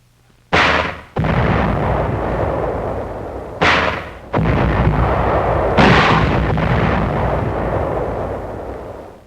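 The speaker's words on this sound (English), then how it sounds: "A 75mm howitzer mounted on an Amtrak shells enemy caves." A 75mm howitzer mounted on an amtrac shells enemy caves in 1945 wartime combat, firing three or four loud booming blasts whose heavy roar lingers and rumbles between shots.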